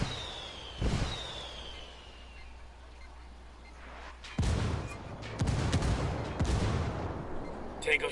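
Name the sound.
artillery strike called in as indirect fire, from a video game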